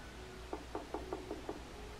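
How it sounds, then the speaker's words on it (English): Six evenly spaced raps on a house's front door, quiet and hollow, over a steady low hum. "I knocked."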